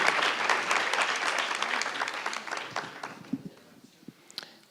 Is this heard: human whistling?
no